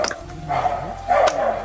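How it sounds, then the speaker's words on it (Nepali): A dog barks at a family arriving at their house, two loud, close bursts of barking about half a second apart, with faint voices in the background. "कुकुर चाहिँ करायो"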